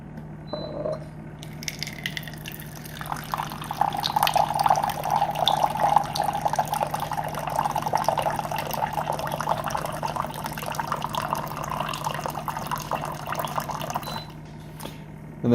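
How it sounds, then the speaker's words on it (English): A SimPure Y7P countertop reverse osmosis UV water filter dispenses a 6-ounce serving of mildly bubbly water, a steady close splashing pour lasting around ten seconds, preceded by a brief electronic tone. "it pours out nice, clean, mildly bubbly water"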